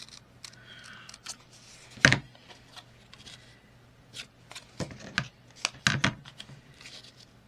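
Scissors snipping through paper while trimming pieces for a paper doll masterboard tag, a few sharp close cuts and soft paper rustles, alone with no talk.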